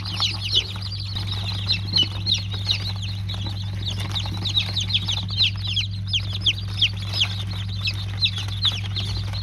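Dense, overlapping high peeping of many Australorp chicks with occasional clucks from chickens, steady and continuous over a low constant hum.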